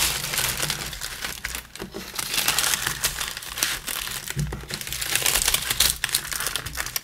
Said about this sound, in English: I love to wrap everything burrito style